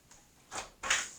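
A door is opened indoors, giving a couple of soft hissing, scraping bursts of handle and hinge movement, fairly faint and close.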